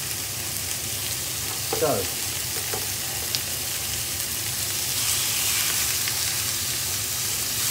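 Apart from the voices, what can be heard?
stir-frying minced meat for Chinese noodle sauce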